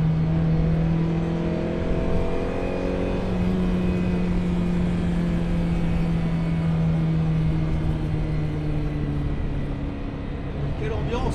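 A Ferrari 308 GTB engine droning steadily while driving, its low harmonic tone holding then gently shifting in pitch, heard from inside the car, loud and continuous.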